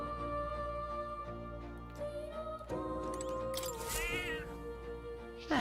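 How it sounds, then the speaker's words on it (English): A cat meows in the Metaphor: ReFantazio video game. A short, wavering meow rises over sustained background music near the end. "That's a good kitty."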